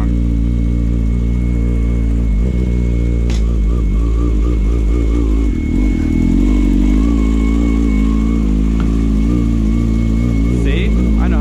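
A Grom motorcycle's engine running steadily up close, with revving changes and clattering bumps as the bike is loaded into a truck, while someone talks over it.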